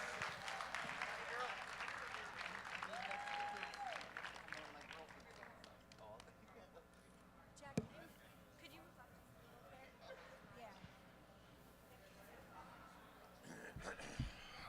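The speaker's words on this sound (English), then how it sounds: "Give me a round of applause for all the spotters and loaders working harder than anybody out there" An audience at a collegiate powerlifting meet claps for the spotters and loaders. The clapping is fuller in the first few seconds, then fades under steady crowd murmur and an announcer's voice.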